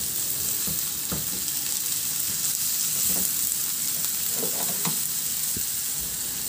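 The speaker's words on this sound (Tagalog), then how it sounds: "Ihalo lang din hanggang sa maluto lang din yung sibuyas." Chopped onions sizzling steadily in a hot pan, with intermittent scrapes and knocks of a utensil stirring them through a continuous bright frying hiss.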